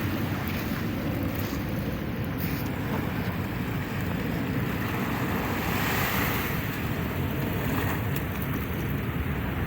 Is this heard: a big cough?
no